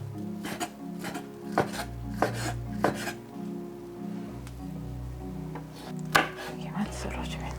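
A knife slices through egg-crepe kimbap on a cutting board, giving a series of soft, close chopping taps and board knocks at an uneven pace, with quiet speech and a low hum alongside.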